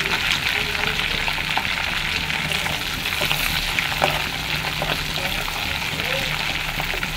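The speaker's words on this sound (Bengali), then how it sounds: "তো এবার তার মধ্যে কিছুটা তেল দিয়ে দিচ্ছি কালো জিরে, শুকনো লঙ্কা" Black cumin and dried chilies sizzle in hot oil, heard as a dense, even crackle of frying that stays close and fairly loud from start to finish, with no talking.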